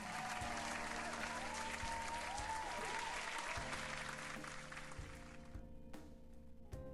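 Cheering and applause sound effect plays on a livestream: a steady, bright wash of many hands clapping with a low hum underneath, holding for several seconds before cutting off abruptly near the end.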